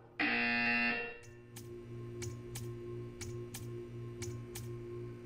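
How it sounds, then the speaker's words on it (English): A buzzer from the Portal 2 video game blares loud and steady for about a second, then a series of sharp, evenly spaced ticking clicks follows over a low electronic hum. "You will hear a buzzer."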